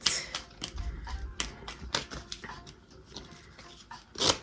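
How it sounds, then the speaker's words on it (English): Rapid crisp clicking and flicking, like playing cards being riffled and shuffled up close, in irregular bursts with brief pauses. "Apparently I can't shuffle very well today."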